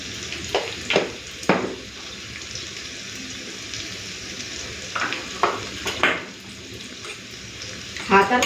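Steady frying sizzle as potatoes fry in hot oil, broken by several sharp scrapes and clatters of stirring, close by.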